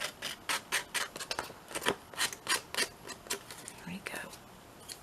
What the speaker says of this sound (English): I'll just grunge this up a little bit, just with the edge of my scissors